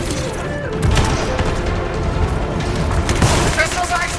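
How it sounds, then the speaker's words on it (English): Crystals exploding in the video game Anthem, with heavy booms and rapid crackling blasts going off in bursts while a voice speaks over the chaos. "The crystals are exploding!"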